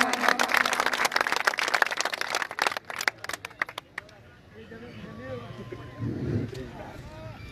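A crowd claps loudly at a Jhelum bull race gathering, the clatter lasting a few seconds before fading into open-air wind and someone speaking over a loudspeaker.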